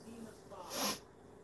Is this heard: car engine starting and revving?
no